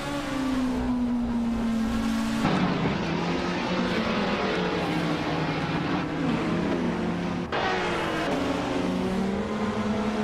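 Several video game AI race cars roar together in a dense, continuous engine drone, with pitch shifts and gear changes as the cars accelerate and jostle, loud and close throughout with no talk.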